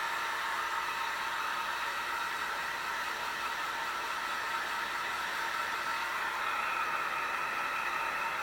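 A heat gun blows hot air in a steady, unbroken rushing hiss at close range while a crafted crusader helm is shaped, with no talking.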